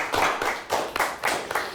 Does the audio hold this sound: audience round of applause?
yes